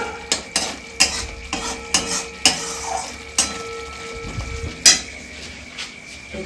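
Food sautés in a pan with a soft sizzle, and a utensil stirs and scrapes in repeated sharp clinks and knocks against the pan's metal bottom at close range.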